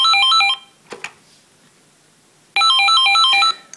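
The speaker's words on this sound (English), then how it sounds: "you can set your own distinguished ringtone" A BT Versatility telephone plays a bright electronic ringtone that warbles in a repeating melodic pattern, stops briefly with a couple of clicks, then plays again, loud and close.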